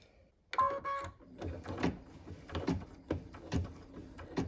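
A home embroidery machine stitches a rim fill along the top of a sleigh on a Christmas tree skirt, giving a close run of quick, uneven mechanical clicks and taps after a brief electronic beep-like tone near the start.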